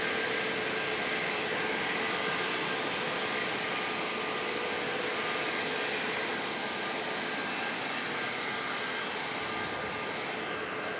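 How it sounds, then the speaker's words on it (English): An Alaska Airlines Boeing 737 MAX 9 takes off at San Diego International Airport, its jet engines a loud, sustained broadband roar with a faint whine, constant and unbroken with no talk. "the Chicago O'Hare MAX 9 is about to take off for Alaska Airlines"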